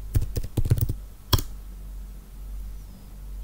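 Several quick keystrokes on a computer keyboard while entering an airline reservation system command, a short burst of clicks followed by one more key press, then quiet room tone.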